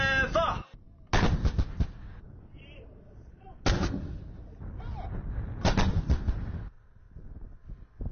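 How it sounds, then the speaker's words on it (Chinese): An artillery battery fires a barrage at a target area during a desert live-fire exercise in the Gobi: several heavy, booming blasts arrive in separate bursts, each rumbling and trailing off, with quieter gaps between them. "首轮炮火精准覆盖目标区域"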